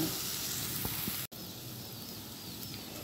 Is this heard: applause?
no